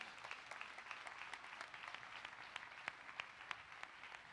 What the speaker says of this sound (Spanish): Dale un aplauso al Señor este día.